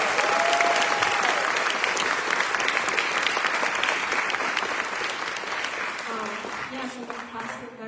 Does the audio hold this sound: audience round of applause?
yes